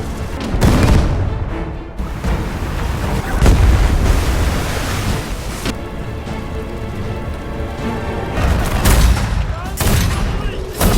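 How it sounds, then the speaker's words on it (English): Ship cannons on a historical naval battle scene boom in repeated heavy blasts amid a dense, roaring wash of battle noise, loud and close throughout. "orders his men to fire their cannons"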